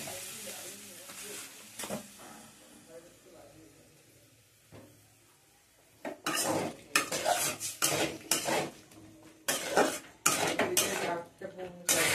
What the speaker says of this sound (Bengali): দিয়ে আমি এটাকে কষে নেব